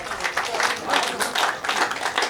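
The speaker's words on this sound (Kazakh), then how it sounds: "Палуандарға қол шапалақтап, қошеметтеп қойыңыздар" A crowd applauds wrestlers at an arm-wrestling event marking a village's 50th anniversary, with a dense, continuous patter of clapping that rises and falls slightly and holds steady across the whole short stretch.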